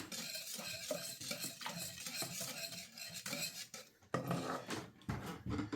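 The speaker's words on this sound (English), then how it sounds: "I'm going to incorporate and whisk all my ingredients together" Rum cake batter ingredients being whisked together in a bowl, a steady busy run of close scraping and clinking strokes with a few sharper knocks near the end.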